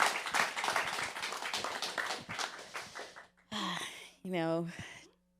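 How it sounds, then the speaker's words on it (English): A round of applause from an audience at a community program event fills the room with dense, loud clapping that gradually thins and fades, followed by a few brief voiced sounds. "another round of applause for our amazing digital navigator"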